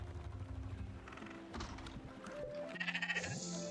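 A sheep bleats in the Spiritfarer video game: a short, wavering call near the end over soft, sustained game music.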